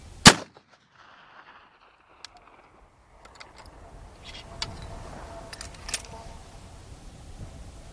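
An 1874 Sharps rifle fires once at long range, a single sharp, loud crack right at the start that cuts off fast, followed by faint clinks and low background rustle.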